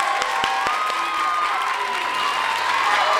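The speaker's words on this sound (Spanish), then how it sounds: "Un aplauso a mi mamá." An audience applauds in a studio setting, steady clapping with a few sharp claps near the start, continuing alongside faint voices.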